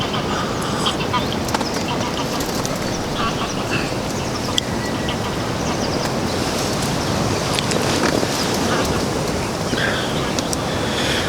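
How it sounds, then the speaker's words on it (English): Wind buffets an outdoor microphone at a fishing lake, a constant rough rumbling roar filling the whole stretch, with faint bird calls and a few small knocks in the background. "wind is really picking up though now"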